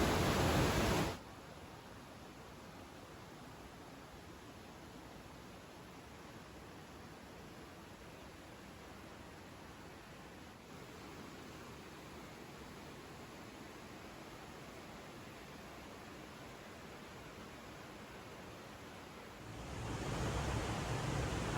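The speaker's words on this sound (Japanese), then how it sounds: "ずっと川の流れが聞こえてて、すごい爽やかです。" A steady, even rush of flowing water fills the whole stretch, constant and close, a river running nearby at a Shima Onsen inn in summer.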